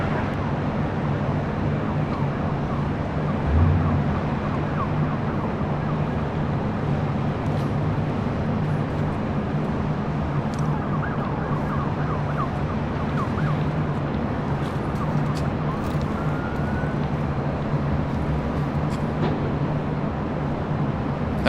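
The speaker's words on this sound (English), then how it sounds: "That was Air Canada Flight 788 heading to Toronto, the freshly painted 787-8 Dreamliner." An Air Canada Boeing 787-8 Dreamliner taking off at LAX, a steady, sustained jet engine roar heard from a distance over a constant background drone, with no talking.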